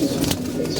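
Pigeons being fed paddy, grain and maize give a soft, close coo that rises over a low murmur, brief and gentle.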